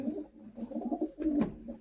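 Newly bought pigeons coo softly nearby, a low throaty rolling coo lasting under two seconds, faint and alone.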